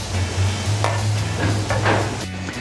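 Ginger sorrel sauce simmers in a pot with a steady low bubbling hiss and soft occasional stirring knocks, close and continuous.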